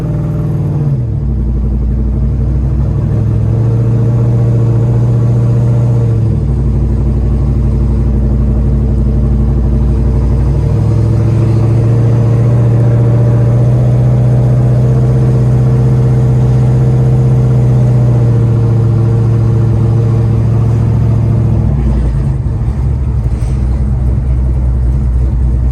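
A 1971 Chevrolet Chevelle SS with a big block V8 and automatic transmission runs loud and close, a deep idle rumble with several sustained rises in revs, steady throughout and no voices.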